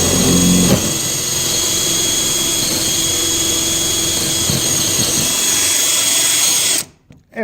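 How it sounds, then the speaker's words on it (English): A power drill drills into garage siding, running loud and steady at close range, its high whine holding for several seconds before cutting off abruptly near the end. "Now my drill just wants to walk on me a little"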